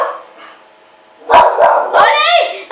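Dogs in a snowy survival video game give a few sharp barks followed by a whining yelp, heard close after a stretch of quiet background.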